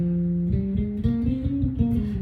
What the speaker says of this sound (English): So the Lydian dominant has a mode to it, so it sounds like this